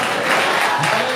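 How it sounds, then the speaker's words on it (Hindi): A church congregation at a live Hindi sermon claps loudly for the Lord, a dense, continuous wash of hands filling the room, with voices mixed in. "आइए प्रभु के लिए जोर से ताली बजाएं।"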